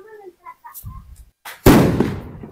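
A Diwali firecracker bomb lit by hand at home bursts with one sharp, loud bang and a crackling tail, after a few seconds of brief voices and quiet shuffling nearby.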